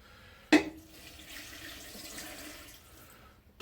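Kitchen tap turned on to run water into a cooking pot for smothered cabbage, a sharp click at the handle followed by a soft steady splashing stream, faint and close, ending with another click.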